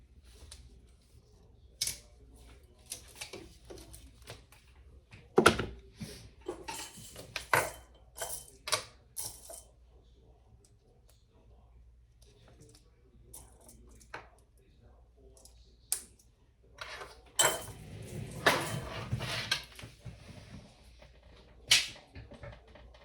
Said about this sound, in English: let's add a rivet